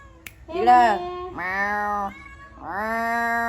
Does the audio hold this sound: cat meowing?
yes